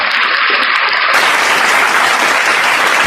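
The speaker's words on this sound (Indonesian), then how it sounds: "tepuk tangan" A big audience of about 1,300 at a live show bursts into loud, steady applause, a thick wash of clapping that fills the whole stretch without a pause.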